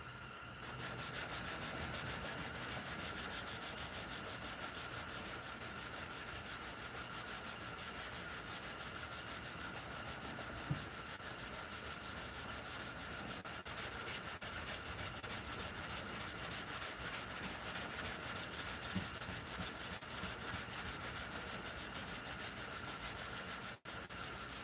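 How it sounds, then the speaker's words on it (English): Steady, rhythmic scratching of sandpaper rubbed by hand back and forth over wood, continuing evenly for a long stretch at moderate volume. "I'll serenade you with the sweet, sweet sound of my hand sanding."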